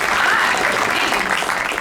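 An audience applauds steadily at the Dell keynote at CES 2018. The clapping is loud and sustained, with no speech over it.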